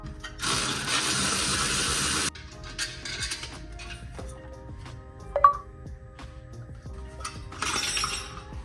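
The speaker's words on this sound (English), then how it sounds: "I can get to that 13 millimeter bolt on the V-band. It's turning." Ratchet wrench turning the 13 mm bolt on a downpipe V-band clamp of a 2023 Nissan Z in a home garage: rapid clicking bursts with scattered metallic clinks and pauses, fairly close.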